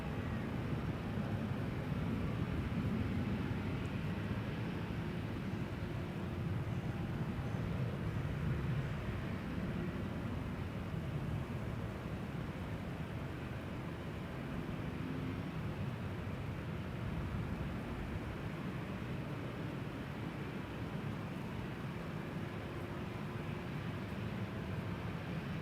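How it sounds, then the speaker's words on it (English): A KLM Boeing 737-800 bound for Dublin takes off from the Polderbaan runway 36L at Amsterdam Schiphol, its jet engines making a steady, broad roar that holds level for the whole stretch with no talking. "KLM flight 1137 is first going to take off"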